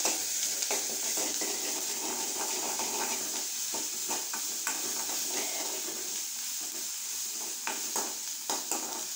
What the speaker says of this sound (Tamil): தேங்காய் எண்ணெயில் தான் இந்த சுரைக்காய் பருப்பை தாளிக்கிறேன்